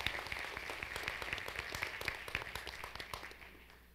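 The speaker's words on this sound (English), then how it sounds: "can we give all of our presidential awards a round of applause?" An audience at a university academic honors convocation applauds presidential award recipients, a crowd clapping with distinct, rapid hand claps that stay fairly close and lively before tapering off toward the end.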